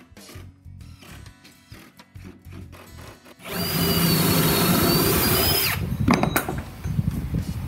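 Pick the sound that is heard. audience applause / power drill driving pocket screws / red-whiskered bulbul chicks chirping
power drill driving pocket screws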